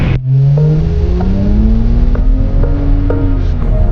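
A car engine revs hard under acceleration in third gear, a loud, close drone climbing steadily in pitch with faint clicks and knocks over it.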